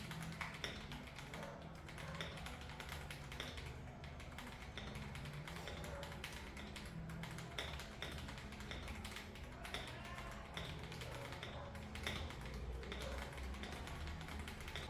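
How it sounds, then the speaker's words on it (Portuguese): Mechanical keyboard typing with keycaps built for a deep, thocky low sound, heard as a steady stream of soft, fairly quiet keystrokes throughout with no talking. "as keycaps são tudo pensadas para deixar o som dele mais thunk possível, o som mais grave"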